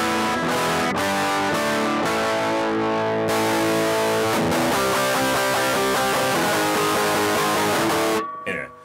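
Electric guitar played through a Laney Ironheart IRT Pulse preamp with cab emulation switched off, giving a harsh, fizzy distorted tone; loud sustained chords ring steadily for about eight seconds before cutting off abruptly.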